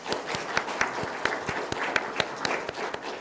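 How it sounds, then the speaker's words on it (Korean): Small Korean church congregation welcomes a visiting deacon during Sunday worship with a light, scattered round of handclaps, individual claps distinct and loosely rhythmic in a modest room. "박수로 환영하겠습니다"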